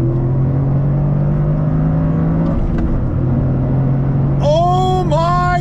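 A 2023 Toyota GR Corolla, all-wheel-drive with a three-cylinder engine and manual transmission, pulls hard in sport mode, its engine drone steady and loud before a sharp rising rev surges near the end.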